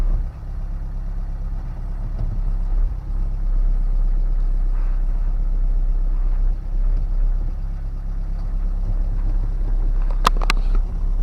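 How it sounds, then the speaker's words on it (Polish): A Ford Transit van engine idles with a steady low rumble that holds even throughout, with a couple of sharp clicks near the end. "Silnik pracuje równo."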